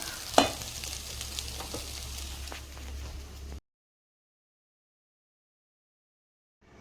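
Potatoes and onion frying in ghee, a close crackling sizzle with stirring scrapes that runs for a few seconds and then cuts to silence.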